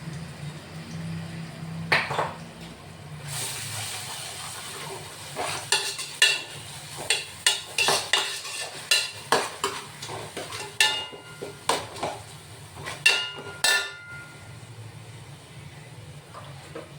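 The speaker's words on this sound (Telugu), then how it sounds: "ఇప్పుడు అల్లం వెల్లుల్లి పేస్టు 2 స్పూన్లు వేస్తున్నానండి" Ginger garlic paste fries in a pan with cooked tomato for an Andhra-style mango fish curry: a low sizzle runs under repeated clinks and scrapes of a spoon stirring against the pan, close and fairly loud.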